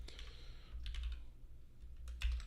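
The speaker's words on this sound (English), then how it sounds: "Typing is hard tonight." Typing on a computer keyboard, quick irregular clicks and taps at close range, fairly quiet, with a low hum underneath and no talk.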